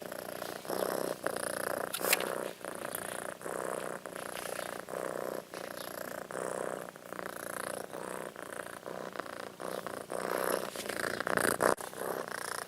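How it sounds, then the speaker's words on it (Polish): A Norwegian forest cat purrs steadily and close up, a soft continuous rumbling with occasional light rubbing noises. "kot norweski leśny, mruczenie jest jedną z podstawowych czynności kota. Posłuchajcie."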